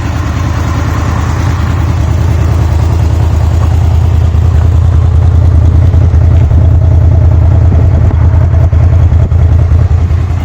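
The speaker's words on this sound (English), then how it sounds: "I think it sounds like a V8 muscle car at idle, obviously a lot quieter" A 2015 Honda VFR800F motorcycle with its stock exhaust idles close by, a steady, low, burbling engine note with a faint mechanical clatter, continuous and even for the whole stretch, with no voices.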